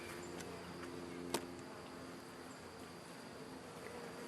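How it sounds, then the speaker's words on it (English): Honeybees hum steadily inside a grown backyard hive, a faint, continuous buzz with no voices, broken by one brief sharp click. "The bees are at the top now."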